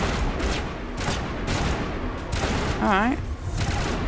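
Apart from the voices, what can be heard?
gunfire in the video game Mass Effect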